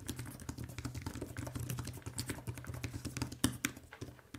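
Someone types on the Xiaomi Pad 6S Pro 12.4 keyboard, which has 16 mm scissor-mechanism keys with 1.3 mm travel, producing a quick, steady patter of soft, close clicks with a slightly louder tap near the end.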